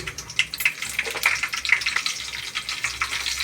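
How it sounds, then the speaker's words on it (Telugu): Mustard seeds and green chillies frying in hot oil, crackling and popping in a steady stream of small sharp bursts, fairly close and moderately loud with no voices. "నూనె వేడెక్కిందండి కొంచెం ఆవాలు వేసుకుందాం పచ్చిమిరపకాయలు"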